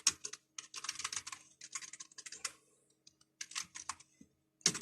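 Typing code on a computer keyboard, a close, quiet rattle of clustered key clicks in uneven bursts with short pauses between, heard alone without talk.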